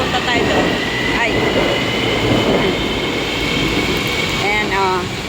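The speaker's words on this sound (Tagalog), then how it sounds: "Paalis na yung tren na papuntang Potra Heights." A train rumbles steadily as it pulls out of Titiwangsa station in the rain, wheels squealing faintly at intervals, with people speaking quietly in the background.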